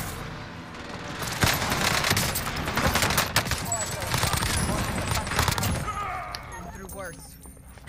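Airstrike explosions and rapid gunfire on a house roof in Warzone Pacific on Rebirth Island, a dense burst of booms and fusillade rattling for several seconds, then tapering, with a voice talking over it.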